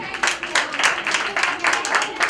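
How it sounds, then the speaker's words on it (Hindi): An audience claps for an artist at a cultural society tribute event, a steady burst of applause from a moderately sized crowd lasting a couple of seconds. "बजाइए एक बार ताली।"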